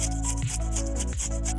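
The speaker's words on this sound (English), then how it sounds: "Okay, grating the ginger," Fresh ginger root being grated by hand for Guyanese cassava pone, a steady, close scraping and rubbing sound that continues without pause for the whole short stretch, with no talking.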